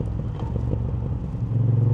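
A 2025 Moto Guzzi V7 Sport motorcycle riding in traffic gives a steady low engine rumble with a throbbing idle pulse, growing a bit louder and deeper toward the end as it pulls away.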